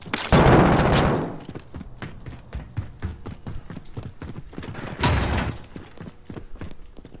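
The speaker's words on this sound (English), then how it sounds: "I'm gonna shoot a rocket up there." A rocket fired in Call of Duty: Modern Warfare at a top-floor window, a loud whooshing burst at the start and another heavy blast later, with rapid clattering gunfire and footsteps between them.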